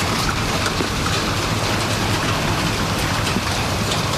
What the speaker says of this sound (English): that is that sound of some very strong wind and even a little bit of that hail